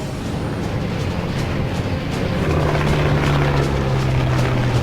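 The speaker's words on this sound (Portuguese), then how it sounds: "O caça alemão tenta se esquivar e mergulha" A German fighter plane dives during an aerial dogfight, its engine a loud, continuous droning roar that swells slightly while a rising whine tone cuts through it; no speech is heard.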